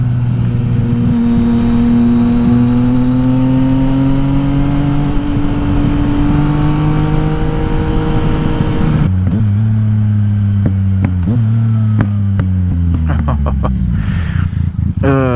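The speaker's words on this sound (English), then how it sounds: "These backfires are like" A Yamaha XSR900 motorcycle fitted with an Akrapovic exhaust drones loudly under throttle, then the revs drop and a run of sharp exhaust pops and crackles follows over the last few seconds.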